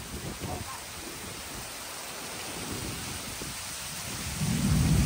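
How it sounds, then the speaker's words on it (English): A severe thunderstorm with heavy rain and lightning, caught outdoors while fishing, gives a dense, loud wash of rainfall with deep rumbling thunder swelling toward the end, and a voice can be heard faintly. "Goodness, we've got lightning. Lots and lots of lightning."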